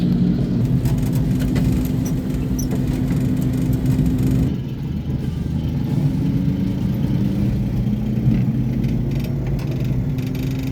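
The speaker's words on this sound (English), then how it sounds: "This car does not accelerate the fastest. That's pedal to the metal right there." A 1966 Dodge Dart engine drones steadily from inside the cabin, straining under full-throttle acceleration with a sustained hum that dips briefly midway, then picks back up.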